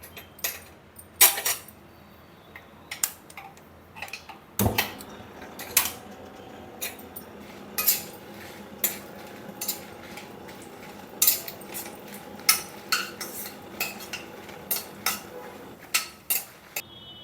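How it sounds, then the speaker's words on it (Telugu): Dried red chillies frying in a little oil in a pan, with sharp metallic clinks and scrapes of a spoon stirring at irregular intervals over a faint background sizzle. "ఆయిల్ వేసి ఆయిల్లో వేపుదాం మిరపకాయలు"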